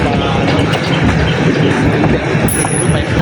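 A train runs close by near Ywar That Gyi station on the outskirts of Yangon, Myanmar, giving a loud, continuous rolling rumble of wheels and carriages with a brief high squeal near the end.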